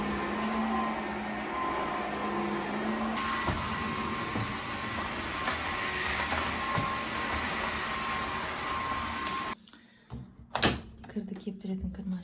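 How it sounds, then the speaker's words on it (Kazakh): A robot vacuum cleaner washes the floor at home, giving off a steady whirring hum for about nine seconds before it shuts off, followed by a few quiet knocks and handling noises. "Осы пылесосым жақсы болды. Бүгін полды тазартып жуып береді."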